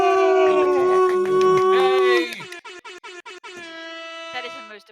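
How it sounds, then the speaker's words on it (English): A loud, blaring air horn sounds for about two seconds, then breaks into a series of short staccato blasts and a final sustained tone. "That is the most appropriate air horn I've ever heard."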